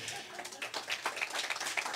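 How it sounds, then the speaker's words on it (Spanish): A church congregation breaks into applause, a short burst of scattered hand claps, quiet and somewhat distant, with individual claps standing out. "Así que de otro aplauso al Señor por Alvin."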